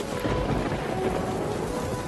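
Steady heavy rain pours down during a flood, a continuous dense hiss of drops on surfaces with a low rumble beneath, moderately loud and unbroken, with no voices.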